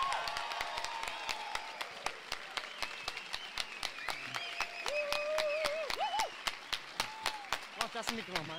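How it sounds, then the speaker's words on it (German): Audience clapping at a live poetry slam event, a steady run of sharp hand claps that continues through the whole stretch, with brief whistles and cheers rising over it. "Macht einen 100-Punkte-Applaus"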